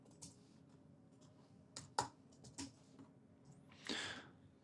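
A computer keyboard is tapped to type values into audio software, a handful of sharp, irregular keystrokes close by, ending in a slightly longer burst of clicks, over a quiet background with no speech.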